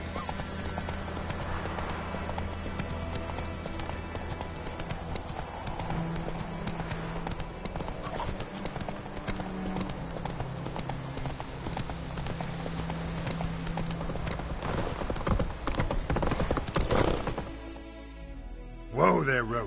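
Roach, a horse in the video game The Witcher 3: Wild Hunt, gallops with quick rhythmic hoofbeats under game music and voices, then slows and stops near the end.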